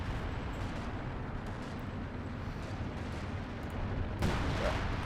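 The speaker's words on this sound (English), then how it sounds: "So artillery helps break some lines over here." Artillery in a Company of Heroes 2 4v4 battle produces a dense, continuous rumble of distant explosions and booms, with one heavier blast rising near the end.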